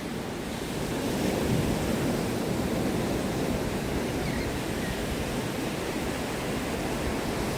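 Ocean surf rolls onto Anna Maria Island beach at sunset, a steady, broad wash of waves and breeze that holds at an even level without voices.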